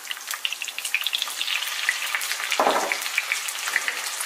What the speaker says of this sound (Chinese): 然后我们再把瘦肉片给它倒进来